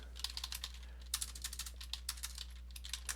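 Fingers tap out a spreadsheet formula on a computer keyboard, a close, quick, uneven run of light key clicks with short pauses, alone over a low steady hum.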